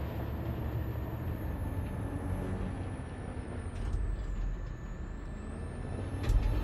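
A heavy truck drives at speed in Detroit: Become Human with a constant loud low rumble. A faint high whine rises and falls above it, and a louder thump comes near the end. No one speaks.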